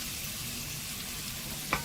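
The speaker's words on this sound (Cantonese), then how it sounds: "放啲薑米落去，用鑊鏟將佢爆香" Minced ginger sizzles in hot oil in a wok over medium heat, a steady close hiss and crackle, broken by a single sharp tap of a metal spatula near the end.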